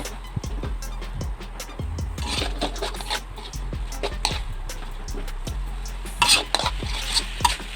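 Sliced flat beans being stir-fried in a pan for a northern Thai dish give repeated scraping and clattering strokes of a utensil against the pan, close and fairly loud, over a soft background sizzle.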